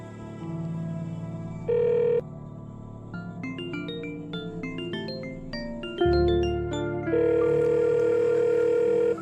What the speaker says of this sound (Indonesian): Coba telepon Livi.